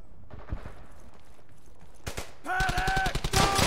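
Rapid machine gun bursts in the WWII shooter Brothers in Arms: Hell's Highway, sparse shots and clatter at first, then a loud, dense volley of automatic fire that closes the stretch.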